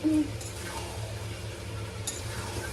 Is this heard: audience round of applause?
no